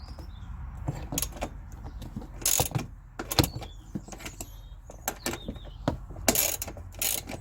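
Ratchet with a 19mm socket undoing a passenger bench seat bolt, a series of close, sharp clicking bursts in uneven spurts with short pauses between.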